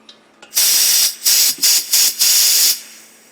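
Propane hisses loudly as it flows into a 1 lb tank. Several strong bursts of rushing gas start and stop in quick succession, each lasting a fraction of a second to about a second, with brief quiet gaps between them.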